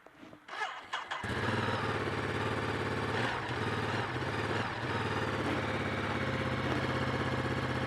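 After a second of clicks and handling, a Ducati Multistrada 950S motorcycle engine fires up and settles straight into a steady, close idle with a throbbing, even beat that holds for the rest of the clip.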